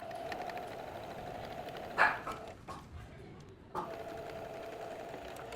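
Sewing machine running through a topstitched seam on a pair of trousers, a steady mechanical whir at close range with a brief knock and a short pause partway through.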